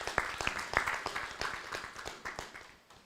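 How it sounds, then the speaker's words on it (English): Applause from an audience at an agricultural symposium in Uganda, a run of scattered claps that fades over about three seconds, moderately faint. "Let's give them a round of applause."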